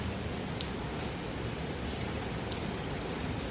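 Heavy rain pours in a dense, steady wash of broadband noise, unbroken and fairly loud, with a few faint higher patters on top.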